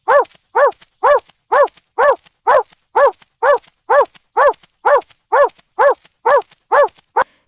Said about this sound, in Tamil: நாய் வேகமா கண்ணனோட வீட்டுக்கு ஓடி வந்து வீட்டு முன்னாடி நின்னு கொலைச்சு அம்மாவை வெளியில் வர வச்சுது